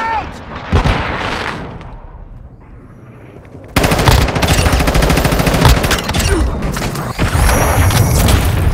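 Frag grenade blast and rapid gunfire in Call of Duty: Warzone Mobile multiplayer, a sudden loud burst of sustained automatic fire with booms after a quieter stretch, with game voice callouts mixed in.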